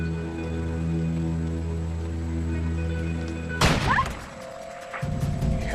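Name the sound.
gunshot in a swamp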